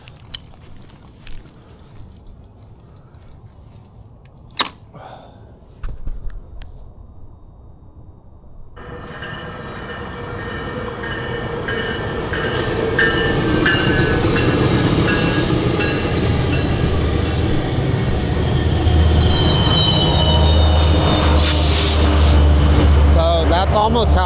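A train passes by on the rails at night, quiet at first and then rising abruptly into a loud, sustained rumble and rattling clatter of cars that builds and holds close until the end.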